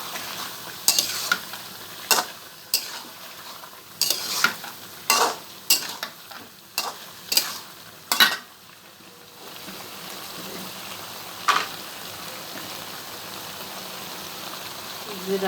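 Eel fish and taro are stir-fried together in a pan, with a spatula scraping in regular loud strokes over a soft sizzle for about eight seconds before the stirring stops and a quieter, steady frying hiss continues.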